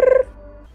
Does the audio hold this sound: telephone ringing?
yes